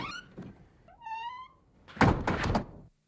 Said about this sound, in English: Rozelle heads out the door, looking back over her shoulder as she leaves.